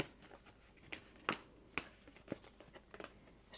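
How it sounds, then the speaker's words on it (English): Tarot cards being shuffled by hand, a string of quick papery riffles and slaps, a few sharp snaps standing out, close and fairly quiet with no voices. "I'm going to shuffle this card again."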